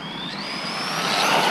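An Outcast 4s vehicle on Scorpion belted tires revs at full throttle, its engine note rising steadily and loud over about a second and a half, heard alone.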